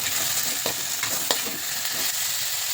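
Food scraped and stirred in a pan over a constant sizzle, with several soft utensil strokes spaced about half a second apart, close and without talk.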